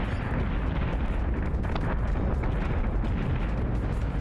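Heavy battlestar gunfire in the space combat game Battlestar Galactica Deadlock, a dense, continuous barrage of low booming shots and explosions rumbling loudly throughout with no pauses.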